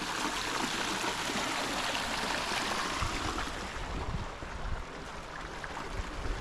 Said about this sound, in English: just listen to the water come right down here out of the creek